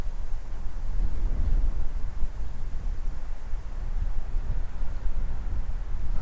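Steady wind gusting across an open mountain meadow beside a small creek, a loud broadband rush buffeting the microphone with low rumble throughout, no voices.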